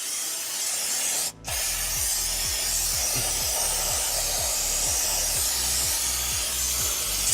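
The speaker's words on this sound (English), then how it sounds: "Since I don't want to bring out the whole tank, I just spray on top of the tank." A tank sprayer sends out a steady, loud hiss of mist during repair work under a 2004 Mini Cooper S Cabrio. A pump or motor pulses rhythmically beneath it, and a brief gap comes near the start.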